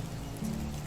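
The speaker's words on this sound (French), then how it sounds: "Là on entend bien la pluie en tout cas." Steady rain falls in the medieval survival game Medieval Dynasty, a dense continuous hiss of drops on surfaces with a low rumble underneath, lasting under a second with no voices.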